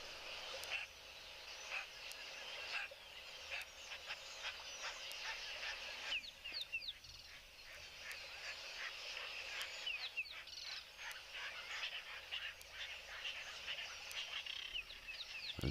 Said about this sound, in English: Just hear that lilac-breasted roller as well in the background.